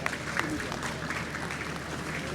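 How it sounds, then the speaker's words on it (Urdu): Audience applause for a speaker at a Victory Day 80th anniversary ceremony, steady clapping from a crowd that continues throughout, with a voice speaking over it. "آپ کی بھرپور تالیوں میں۔"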